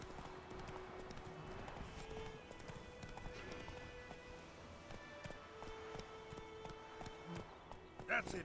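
Roach, Geralt's horse in The Witcher 3 game, gallops with steady hoofbeats over game music and ambience, with talk over the top and a brief louder burst near the end.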